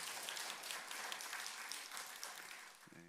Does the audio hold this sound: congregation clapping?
yes